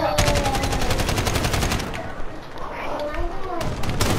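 Rapid automatic AK rifle fire in a Call of Duty match, a dense loud stream of shots for the first two seconds, then sparser bursts and scattered shots over game background noise.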